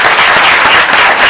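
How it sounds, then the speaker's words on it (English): An audience at a bird race awards function gives a loud, dense round of applause that holds steady with no breaks through the short stretch. "A big round of applause for HSBC for supporting this and making it happen."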